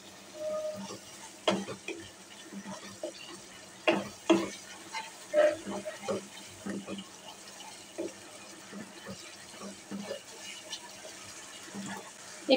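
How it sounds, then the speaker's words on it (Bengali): Spices with a pinch of sugar being sautéed in a pan, a low sizzle under repeated scraping and stirring strokes that come in irregular bursts, with someone speaking at times. "সামান্য চিনি দিয়ে দিচ্ছি, এবার ভালো করে কষিয়ে নেব।"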